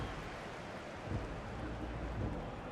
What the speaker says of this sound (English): It's pissing it down with rain.